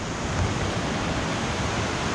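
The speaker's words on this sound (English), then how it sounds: "Fantastic little rapid." Small river rapid on the Chattooga River near where a creek flows in, giving a steady, close, full rush of whitewater that holds constant and fills the whole clip with no voices.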